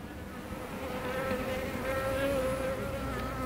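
Honey bees hum steadily at an opened hive in winter care, a dense continuous buzz close by that swells slightly louder partway through, with no talk.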